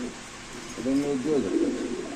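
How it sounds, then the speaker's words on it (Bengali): Soft cooing of black Moorasel pigeons, a few low warbling coos rising over a steady murmur of background noise. "এগুলো ব্ল্যাক মোরাসেল কবুতর"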